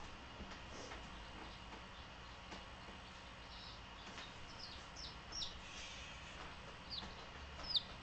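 Japanese chickens kept as backyard pets cluck and chirp quietly at a distance, with a few sharper calls toward the end over soft room noise.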